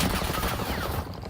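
Rapid gunfire in the video game Warzone, a dense burst of automatic shots crackling close and loud for over a second before easing off slightly.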